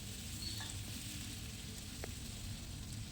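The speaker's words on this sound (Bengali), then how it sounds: "এরপর পনিরগুলো আমি ভেজে নিচ্ছি ভালোভাবে।" Paneer cubes frying in a pan for palak paneer, a steady soft sizzle throughout with an occasional faint stir or clink, close by and with no talking.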